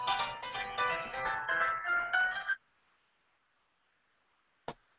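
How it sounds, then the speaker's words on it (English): A cell phone rings with a bright warbling electronic melody for a few seconds, then stops; after a near-silent pause a single short click follows. "Okay, that was my cell phone."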